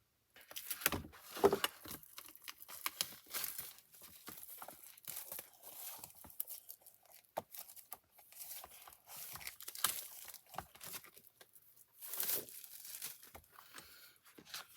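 Craft paper for a card-making suite is handled and rustled close by, producing soft intermittent crinkles and sharper crackles scattered through a quiet room with no talking.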